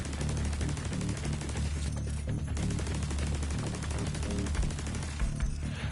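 Sustained gunfire from shooting in the video game The Division 2, dense rapid bursts layered over a loud continuous game soundtrack.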